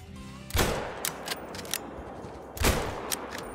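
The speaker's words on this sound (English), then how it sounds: "Tried for a headshot, and we got him." Two loud rifle shots fired at a cape buffalo during a hunt, about two seconds apart, each a sharp crack followed by a rolling outdoor echo and fainter reports.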